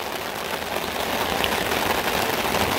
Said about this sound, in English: Oh yeah, it's getting heavy, all right.